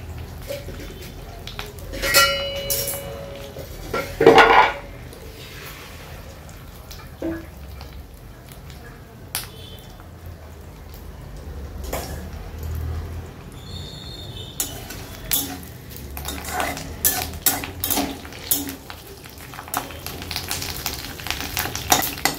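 Vegetable curry simmering in a pan, a low continuous bubbling and sizzle with occasional utensil clinks and stirring scrapes, close and moderate in level.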